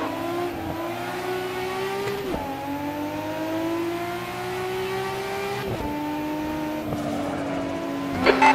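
Nissan Skyline R34 racing at a wintry Silverstone in Assetto Corsa, its engine loud and steady as it climbs through the gears with sharp shift drops, a brief burst near the end.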